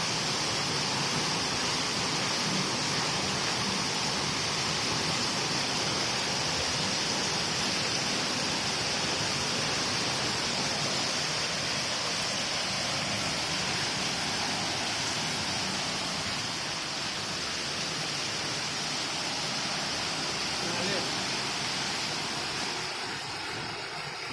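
Water gushing from a well pump pipe on a farm, a dense continuous rushing splash holding steady and fairly loud for the whole stretch, with no talk over it.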